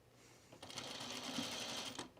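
A sewing machine runs in a steady, rapid stitching burst for about a second and a half, starting and stopping abruptly, close and fairly loud.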